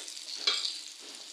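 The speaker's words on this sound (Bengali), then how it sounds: "মাছ ভাজা হয়ে গেছে, এখন বেগুনটি ভাজবো" Eggplant frying in hot oil after fish makes a close, steady sizzle, briefly surging louder midway and then settling back, with no talking.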